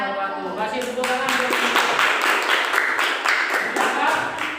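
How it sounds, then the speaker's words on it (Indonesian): Classroom applause after a student group presentation, a few scattered claps close by that blend into brisk clapping from the room, mixed with children's voices and chatter. "Kasih tepuk tangan."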